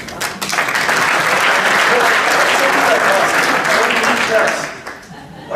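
An audience at a real estate workshop applauds loudly for about five seconds in a dense, steady wash of clapping, which fades out at the end.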